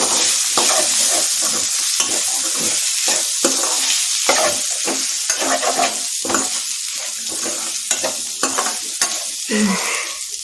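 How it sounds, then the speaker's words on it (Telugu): Pre-fried potato and okra (ladies finger) are stirred in a pan, giving a continuous sizzle broken by repeated scraping strokes of the spoon, close and fairly loud, with no talking. "ముందుగా ఫ్రై చేసుకున్న బంగాళదుంప బెండకాయ వచ్చేసి ఇందులో వేసేసుకోవాలి వేసేసుకొని ఒక్కసారి కలబెట్టుకున్నాం అనుకోండి"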